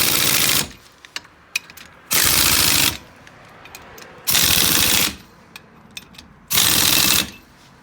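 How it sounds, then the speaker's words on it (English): Pneumatic impact gun on low setting tightening wheel spacer nuts on a 2019 Polaris Ranger XP1000, air supplied at 150 PSI; four loud rattling bursts of under a second each, separated by pauses with faint clicks. "When I'm using my gun, I'll put it on the lowest setting."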